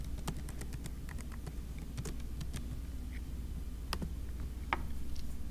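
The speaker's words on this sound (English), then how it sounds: "having to wait on me to type in my stuff" Quick, irregular clicks of typing on a computer keyboard while logging in to an account, close and fairly soft over a steady low background hum.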